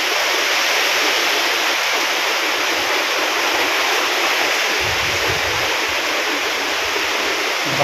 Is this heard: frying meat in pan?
no